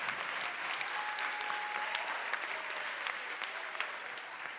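Sustained applause from the audience at a student debate event, an even, crackling wash of many hands clapping at moderate distance, steady for several seconds with no pause.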